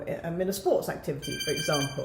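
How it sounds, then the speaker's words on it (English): A five-minute timer alarm rings with steady, bright electronic tones that enter partway through and continue under a person's ongoing talk. "That's our alarm, our 5-minute alarm."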